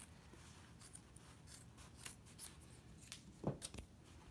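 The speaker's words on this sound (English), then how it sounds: "I'll just cut just beside the line, leaving maybe about 1/4 of an inch" Scissors snip through fabric just beside a stitched seam of a sewn cloth bag, a few quiet, soft cuts spread across a faint, close-up background.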